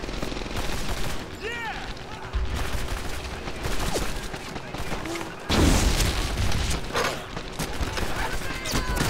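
Gunfire in the World War II shooter Medal of Honor: Airborne, repeated overlapping shots and heavy booms, louder bursts midway, with talking over the battle.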